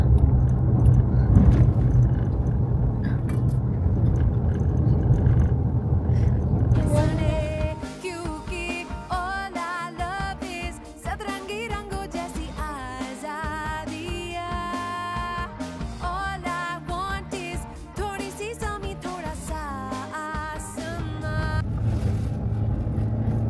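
A car climbing a high mountain road strains with a lagging, underpowered engine, a low rumble joined by rattling interior jingles and shifting tonal whines, fairly close and steady with no talk.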